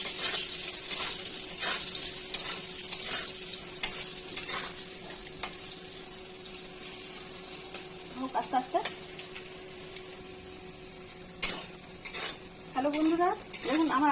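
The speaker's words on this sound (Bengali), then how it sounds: "দেখুন আমার আলুগুলো কি সুন্দর করে লাল লাল করে ভাজা হয়ে গেছে" Potatoes fry in hot oil with salt and turmeric, a steady bright sizzle close by with occasional scraping and stirring in the pan, and someone speaks briefly over it.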